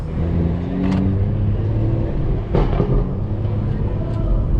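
Loud exhaust of a modified BMW 440i driving through New York City, a steady droning engine note with brief louder bursts, heard from inside the car with a voice speaking.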